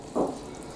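Black beans are stirred into a hot frying pan: one short burst of sizzling and scraping rises near the start, then settles into a low, steady fry with no voices.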